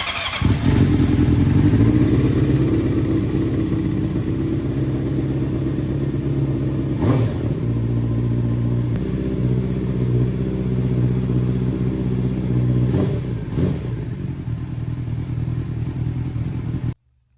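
A Honda CBR600RR sport bike, rebuilt after a wreck, idles steadily close by with a loud, continuous engine drone and a few brief revs and clattery blips before it cuts off at the end.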